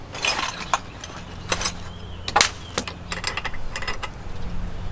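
A 16mm wrench tightening bolts while a 2018 RADMINI is assembled, giving several sharp metallic clicks and ratcheting clanks spaced irregularly over a low background hum, close by.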